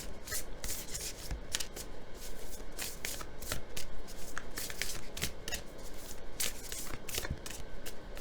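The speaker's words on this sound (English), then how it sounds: "One more little shuffle." Oracle cards from a self-care deck are shuffled by hand in a steady run of crisp riffling and sliding bursts, close and fairly loud, with no talking.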